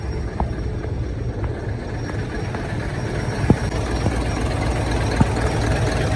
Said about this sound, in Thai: เดี๋ยวพาท่านผู้ชมไปดูอ่ะ เครื่องยนต์ครับว่าจะเป็นยังไง